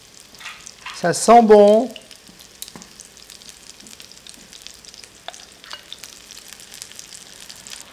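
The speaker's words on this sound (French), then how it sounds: "Alors, ça frétille, ça frit," Cracker dough fries in a pan with a steady, close crackling sizzle throughout, briefly overlaid by a short spoken phrase early on.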